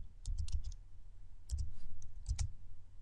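Typing on a computer keyboard in short clusters of key clicks, a few quick taps, a pause, then more taps, close and fairly quiet over a low hum, with no one speaking.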